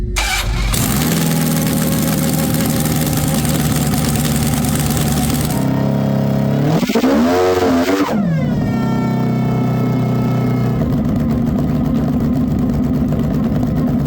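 A snowmobile engine strapped to a hub dyno starts, then revs hard and loud, with a sharp rise and fall in pitch partway through before settling into a steady high drone.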